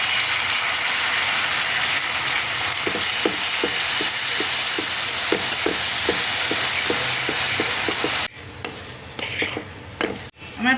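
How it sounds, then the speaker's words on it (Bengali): Tomato sauce with chopped garlic and ginger sizzles in a pan, a steady bright frying hiss under a run of regular scraping stirs, then the sizzle drops away sharply near the end. "এখন দিয়ে দিচ্ছি টমেটো সস।"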